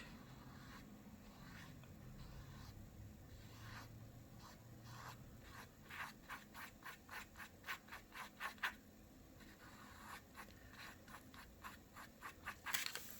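A brush rubs out a line of acrylic paint on canvas, starting as a soft, steady scrubbing and turning into quick rhythmic back-and-forth strokes, fairly close and quiet, with no talking.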